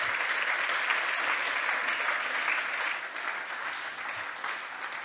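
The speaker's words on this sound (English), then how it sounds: "Let's give James another round of applause." Steady, dense applause from a conference audience after a speaker's talk, continuous and loud throughout with no voices over it.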